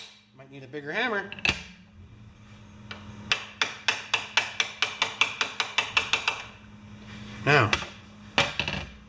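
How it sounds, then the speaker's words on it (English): A hammer taps a lawn mower blade's tabs down through an 18mm socket on an old Yard Machines mower, giving a quick run of about a dozen sharp metallic strikes, close and loud. Speech comes before and after the strikes. "Might need a bigger hammer."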